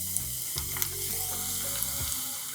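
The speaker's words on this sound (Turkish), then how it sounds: "Ve bütün patlıcanlar kızarana kadar aynı işlemi uyguluyoruz" Eggplant slices fry in hot oil in a pan, a steady broadband sizzle with scattered pops and crackles, close and continuous throughout.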